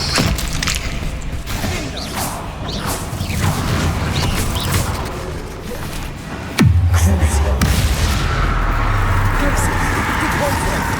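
A Bombarda spell detonates in the game Hogwarts Legacy with a sudden heavy thud partway through, followed by a sustained low rumble amid busy clattering combat sounds.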